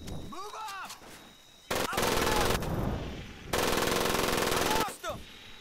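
Heavy machine gun fire in the Medal of Honor Pacific Assault video game: two long, loud rattling bursts separated by short pauses, with softer game effects and faint background sounds between them.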